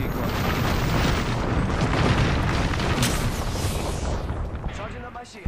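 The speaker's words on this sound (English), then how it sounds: "Watch an airstrike" Airstrike explosions in the Apex Legends battle royale game make a dense, sustained roar of overlapping booms and rumbling blasts that stays loud for several seconds before tapering off, with talk over it.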